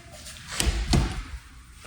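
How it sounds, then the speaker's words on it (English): A house door swung shut inside a ranch home, giving a couple of soft thuds and a latch click up close, with no talking. "Just gonna close the door real quick."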